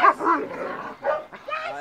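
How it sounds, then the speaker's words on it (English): A dog barks in short yips and whimpers, four close, fairly loud bursts in quick succession, with whiny drawn-out tones between them. "look at that dog, bro"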